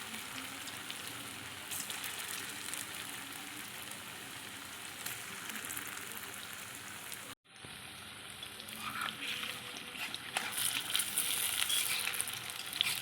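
Bottle gourd koftas frying in a pan of oil give a steady, bright sizzle, broken by a brief silent gap halfway, then resuming slightly louder as they are stirred.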